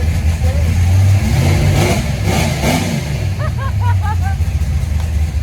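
A 1971 Ford Maverick engine, which shakes under throttle, revs close by in a deep rumble that rises and falls, with a short squealing sound near the end.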